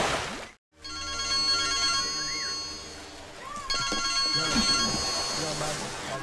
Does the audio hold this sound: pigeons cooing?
no